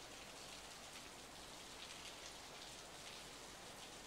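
Steady rain falls in the visual novel video game Steins;Gate 0, a dense, even hiss of drops that stays constant and close for the whole few seconds.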